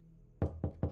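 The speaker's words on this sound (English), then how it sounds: "Who's knocking at the door?" Three firm knocks on a door in the horror video game The Horror Within, evenly spaced and close, heard alone against a low hum.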